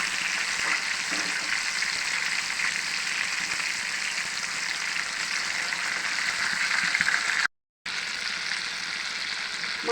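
Hilsa fish fries with onions in a pan, a bright, dense sizzle held close and loud throughout, broken by a brief silent gap as the fish is flipped before the crackling resumes.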